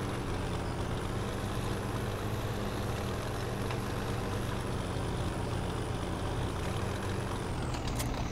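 A tractor engine in Farming Simulator 17, a steady low idling drone that runs without a break and sits loud and close, with a brief hiss near the end.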